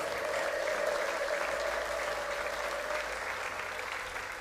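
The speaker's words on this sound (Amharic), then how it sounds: "ለዚህ ጌታ እልልታና ጭብጨባ" A church congregation breaks into sustained applause with ululation threading through it, a dense, continuous roar of many hands that holds steady and eases slightly at the end.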